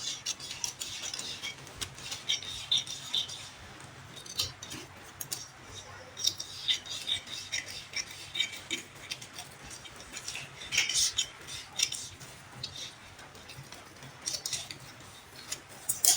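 Scissors snip through paper while a neckline pattern is cut out, giving quiet, irregular crisp clicks and cuts at close range, with no talking.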